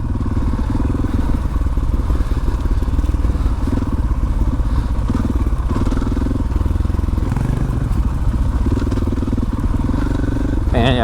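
Dual sport motorcycle riding steadily in third gear with a 12-tooth front sprocket, a loud continuous engine drone with wind rush and occasional clatter throughout.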